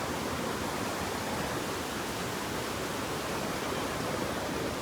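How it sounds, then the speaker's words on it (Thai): Tad Kaeng Yui waterfall near Vang Vieng, Laos, pours as a steady, dense broadband roar of rushing water, close and unbroken, with no voices over it. "น้ำตกตาดบ้านเฮา"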